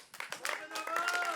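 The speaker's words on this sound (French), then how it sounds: "Allez, on t'applaudit." A small audience at an intimate sofa concert gives a few scattered claps, and a voice begins sounding over them.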